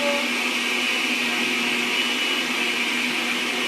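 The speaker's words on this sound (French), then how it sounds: "je suis en train de mixer en ce moment" A blender runs steadily while mixing fruit juice, giving a loud, continuous motor whir with a high-pitched whine that stays even and close throughout, with no voices.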